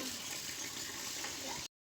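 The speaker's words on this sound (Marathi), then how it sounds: "पाणी भरून घेते सगळं बाहेरचं" A steady rush of water running from a tap, constant and close, cutting off abruptly near the end.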